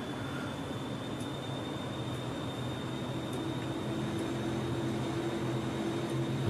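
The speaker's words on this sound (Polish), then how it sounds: "Pociąg wyrusza w dalszą drogę, nabiera prędkości." A train pulls away and rolls steadily along the tracks, a continuous rumbling roar with a faint high tone, slowly building in loudness as it gathers speed.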